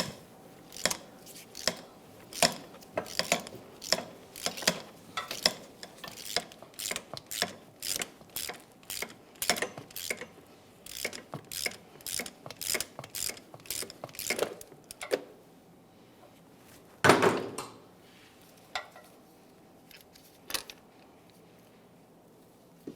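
A 19mm wrench ratchets by hand, turning the center driver of a crankshaft damper puller on a 2009-2019 Ford Flex: rapid clicking strokes in bursts, close and fairly quiet, with a louder clunk near the end.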